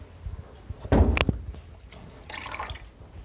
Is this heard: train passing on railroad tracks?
no